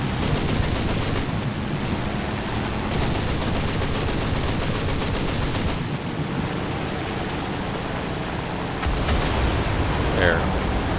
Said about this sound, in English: I hate these Japanese guns.